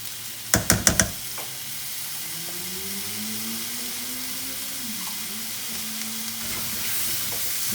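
Garlic cooks in a pan for jambalaya with a steady hiss and sizzle, opened by three quick sharp knocks of a utensil against the pan, then a low faint hum rising and falling beneath the frying.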